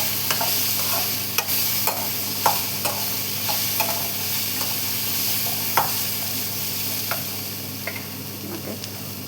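Dried red chillies and peppercorns sizzle loudly in a hot pan while a spoon stirs them, scraping in a steady run of sharp strokes about every second over a constant frying hiss, close and alone.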